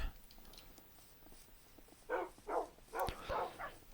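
Minecraft dogs give a short series of yips and whimpers, about five quick bursts close together near the end, faint against a quiet game background.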